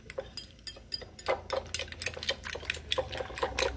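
Scrambled egg with chopped onion, garlic, pepper and salt is beaten in a bowl, a quick run of clinking, scraping strokes going steadily at close range with no talk.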